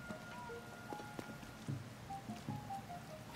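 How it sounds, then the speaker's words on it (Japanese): Steady rain falls in Zelda: Tears of the Kingdom, a soft constant patter with a few brief tonal game chimes over it and no talking. "さあ雨が止むまでちょっと待ちますか"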